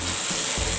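Potatoes going into a pot of hot oil for chole biryani, giving a loud, steady sizzle close by with a soft thud partway through.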